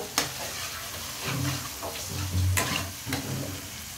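Tuna fish frying in a pan, a close, crackling sizzle with utensil scrapes and clicks as the pieces are moved about, no voices.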